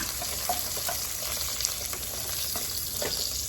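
A raw salted egg fries sunny-side up in a pan with a continuous close sizzle, fine crackling and popping spatter, no voices.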